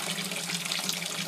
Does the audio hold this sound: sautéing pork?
no